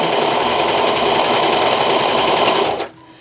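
A sewing machine stitches satin fabric for a bonnet in a steady, fast, loud mechanical whir that stops abruptly near the end.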